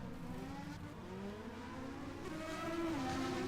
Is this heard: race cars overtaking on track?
yes